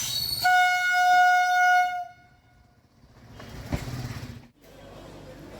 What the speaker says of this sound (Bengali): নটা তেইশের রানাঘাট যাওয়ার ট্রেন বনগায় ঢুকছে এখন নটা পঁয়তাল্লিশে